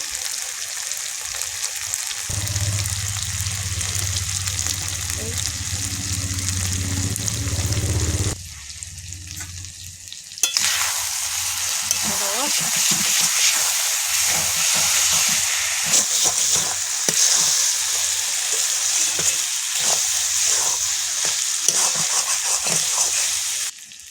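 Spices and garden cabbage sizzle with chicken fat and poultry skin in a pan, a steady close hiss and crackle that fades for a moment midway and then resumes.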